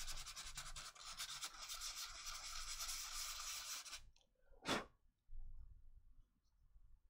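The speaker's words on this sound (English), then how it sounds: "I'm just going to give this flat panel just a very light sanding" Light hand sanding of a flat miniature panel with 400 grit sandpaper: a steady close-up rasping scrape for about four seconds, then quiet with a brief faint rub.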